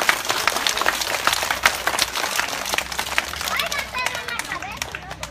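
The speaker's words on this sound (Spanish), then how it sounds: "Un aplauso para todos los niños." Children and adults at a preschool earthquake drill in Pinotepa Nacional, Oaxaca, break into lively, close applause, with voices and children's chatter mixed in throughout.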